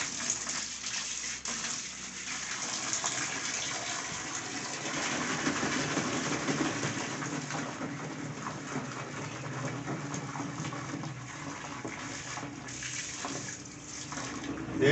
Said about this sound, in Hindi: पानी छोड़ते हैं इसमें।